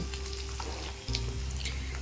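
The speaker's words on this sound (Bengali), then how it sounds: "এইবার এপিট ওপিট লাল করে ভেজে মাছটাকে তুলব।" Oil sizzles and crackles steadily in a pan as small fish fry, with brief stirring sounds and no talking.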